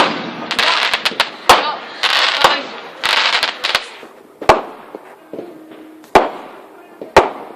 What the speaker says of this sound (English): There's been fireworks going on since like 4:30.